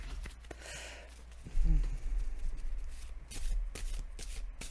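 Tarot cards are shuffled and handled close up, giving soft riffling and papery slaps over a low background rumble.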